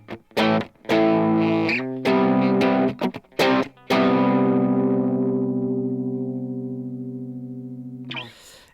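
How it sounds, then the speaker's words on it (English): Overdrive from a Chase Bliss Lost and Found pedal on an electric guitar running in stereo into a recording interface: choppy distorted chord stabs, then a long sustained chord that slowly fades, ending with a fresh attack. "here's just kind of what the overdrive sounds like."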